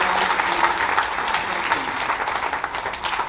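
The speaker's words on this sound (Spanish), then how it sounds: "Dele el aplauso al Señor" A church congregation applauding together, dense steady clapping from many hands filling a hall, loud and continuous with no voices standing out.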